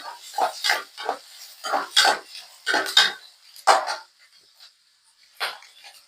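A utensil stirs sliced onions and green chillies in a metal pot, giving irregular close clanks and scrapes in quick bursts, then a brief lull before one more clatter.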